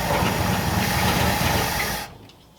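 The V12 engine of a Lincoln runs with the choke set halfway and the throttle closed. A loud, steady mechanical roar with a light knocking texture cuts off abruptly near the end, leaving quiet.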